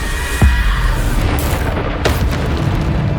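A Bombarda spell explodes in the video game Hogwarts Legacy with a deep, loud boom. A second, softer thud follows a moment later, set against a rumbling background.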